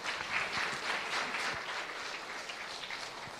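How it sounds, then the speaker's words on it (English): Conference audience giving a round of applause, a steady patter of many hands clapping at moderate volume, fairly close and continuous, fading slightly toward the end with no talking over it. "Can we have a round of applause?"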